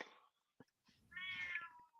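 A cat meows close by: a short call, a brief pause, then a longer, drawn-out, rising meow. No one speaks.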